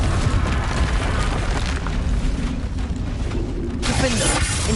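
Confringo fire spell blast in the Hogwarts Legacy video game, a loud close rumbling explosion with crackling debris that swells again near the end, heard alone without voices.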